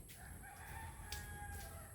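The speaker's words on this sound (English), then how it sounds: "What are you doing over here, chicken?" A rooster crows on a quiet rural farm in the Philippines, a fairly faint, somewhat distant call with a few short clucks around it and no talk.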